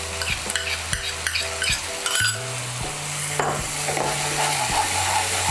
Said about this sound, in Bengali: সমস্ত মশলাগুলোকে ভালো করে মিশিয়ে নিয়ে আমি মশলাটাকে একটু কষিয়ে নেব